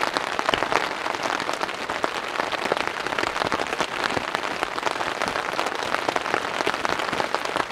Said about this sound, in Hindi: वाव क्या मस्त बारिश हो रही है।